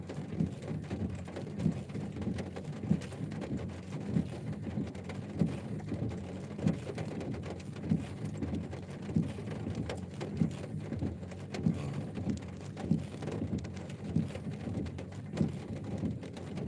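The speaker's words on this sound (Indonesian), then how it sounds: "Hujan deras sobat ya" Heavy rain pours down in a steady, dense hiss with faint regular ticks of drops, continuous and fairly loud with no voices.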